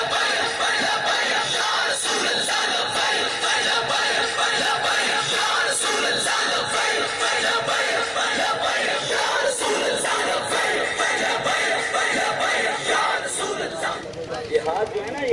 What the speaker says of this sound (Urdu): رب ہم سے لبیک یا رسول اللہ کے نعرے لگوا رہا ہے۔